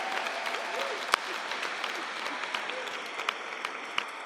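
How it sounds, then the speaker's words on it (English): Applause from an audience at a campus Common Hour gathering, a steady wash of clapping at moderate distance, fairly soft throughout with a few sharper individual claps standing out. "let me give you a round of applause"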